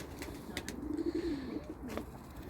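Pigeons coo softly in a home coop, low rolling calls repeating steadily against a faint background, with a few brief rustles and no talking.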